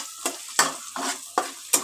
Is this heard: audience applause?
no